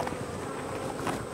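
A steady, dense buzzing of many honeybees close by in a queenless hive with laying workers, continuous and even without a break.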